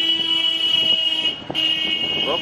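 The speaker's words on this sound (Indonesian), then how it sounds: "Oh, udah lama kita nggak jumpa klakson," A car horn honks on a street in India, a sustained bright tone with a brief break and then resuming, clear and close over quiet background.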